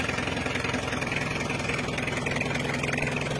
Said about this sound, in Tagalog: Start ko muna itong makina.